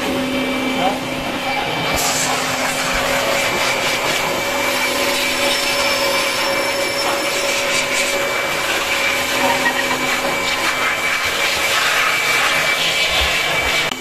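Wet and dry vacuum drawing out water while drying the interior of a Mitsubishi Pajero 4M40, a steady whining motor hum with strong tonal lines, running continuously up close with occasional sucking and rattling bursts.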